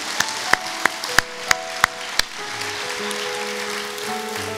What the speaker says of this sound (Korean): 우리 하나님께 우리 영광의 박수 올려드립시다